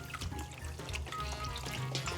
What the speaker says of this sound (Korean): 다시 한번 묵은지를 물에 한번 씻어주세요